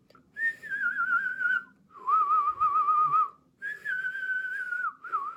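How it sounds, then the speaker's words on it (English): Steady tonal whistling in three long phrases with brief gaps between them, whistled continuously while breathing both in and out, each note wavering slightly in pitch, close and clear with no talking. "when I whistle in and out, it does have a different tone"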